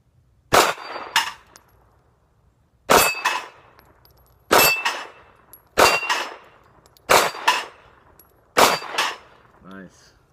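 SIG Sauer P238 pistol shots striking steel targets outdoors: six sharp evenly spaced reports, each followed closely by a loud ringing clang, repeating roughly every one and a half seconds.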